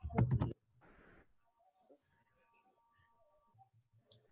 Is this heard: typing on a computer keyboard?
yes